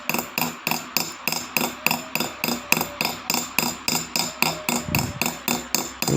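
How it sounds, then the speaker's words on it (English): Small hammer tapping metal toward set stones in jewelry stone-setting work, a steady rhythmic series of about twenty sharp, close taps at roughly three per second. "it need to hammer metal once again towards the stones"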